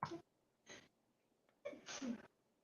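Two quick faint sneezes followed by a louder, fuller sneeze, close and otherwise quiet.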